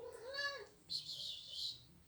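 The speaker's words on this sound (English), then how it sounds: "my cat is meowing away" A pet cat meows once at close range indoors, a short rising then falling cry followed by a softer, higher chirping meow, with faint room noise behind.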